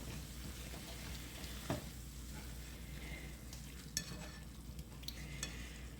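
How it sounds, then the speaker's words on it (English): Food for an unstuffed green pepper dish sizzles in a skillet, a steady quiet frying hiss with a few sharp clicks of stirring, close and fairly faint, no talking. "we're going to let this cook for a few minutes to get it browned up"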